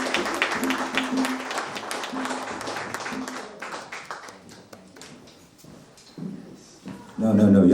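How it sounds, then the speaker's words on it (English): Audience applause at a poetry reading, with dense claps spreading through the room over most of the stretch. Voices and cheers mix in with it. The clapping thins out toward the end, and a louder burst of sound closes it. "No, y'all can't clap at that."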